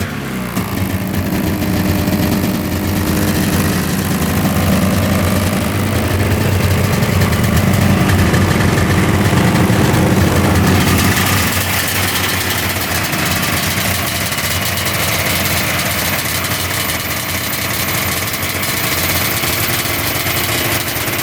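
A snowmobile engine idles fast and steady nearby, a loud continuous drone that shifts in tone partway through and keeps running.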